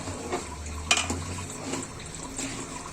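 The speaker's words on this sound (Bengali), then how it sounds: "এখন একটু নেড়ে দিব" A spoon stirs a raw mango sour dish in a cooking pot, making soft scraping and wet, liquid swishing with a sharper clink near the start; no one speaks.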